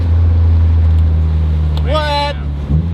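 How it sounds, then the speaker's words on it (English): Mitsubishi Evo 8 engine running steadily with a low droning hum throughout, a whine rising briefly near the end, heard from inside the car while people talk. "We're driving an Evo."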